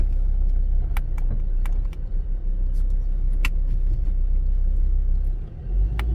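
A truck stuck on a dirt road in Piauí, Brazil, reverses with a steady, loud low engine rumble and scattered faint clicks, with no voices over it.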